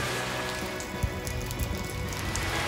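Rain falls steadily on a roof as a dense, even patter of drops along the Mekong River in Vietnam, with a few heavier taps standing out.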